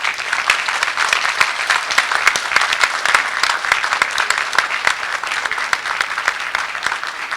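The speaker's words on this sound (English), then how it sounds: "give them a rousing round of applause for all of the love and help they've given you" A large commencement audience in Grenada claps in sustained, dense applause that stays steady and loud from start to finish, with no speech over it.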